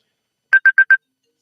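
A phone rings with an incoming-call tone: four quick, identical electronic beeps in an even rhythm, clear and alone against silence.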